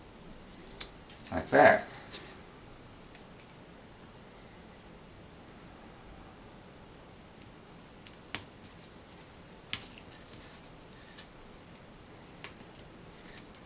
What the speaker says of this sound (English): on the outside, I'll just put some extra pieces of tape